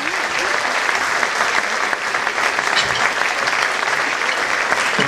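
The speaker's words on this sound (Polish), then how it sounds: "Wielkie brawa!" An audience at a stage event applauds steadily and loudly throughout, a dense wash of clapping with no pauses.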